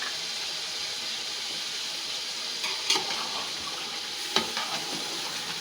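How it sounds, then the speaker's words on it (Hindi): Chicken frying in a pan with sugar, cumin and black pepper for a Kabuli pulao, giving a steady, moderately loud sizzle with two brief stirring clatters partway through and no talking. "इसको अच्छे से चिकन को फ्राई कर लेंगे।"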